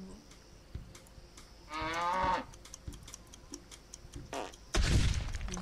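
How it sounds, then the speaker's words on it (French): A cartoonish cow moos twice in the video game Blendimals, one short moo midway and a louder one near the end, over soft ticking game sounds. "une vache. Et une autre vache."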